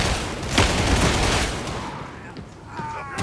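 A rapid burst of gunfire from a weapon in the game Warhammer Darktide, used by the Veteran class, loud and dense at first, then thinning into a few scattered shots.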